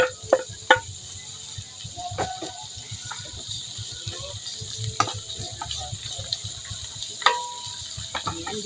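Garlic and onion sautéing in a pan for a pork pata dish, a steady low sizzle running throughout with scattered sharp clicks and taps of a utensil against the pan.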